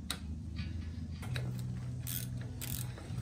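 A ratchet wrench tightens wheel hub bolts on a classic Ford Bronco front axle in a star pattern, giving quick, close metallic clicking strokes over a low mechanical hum.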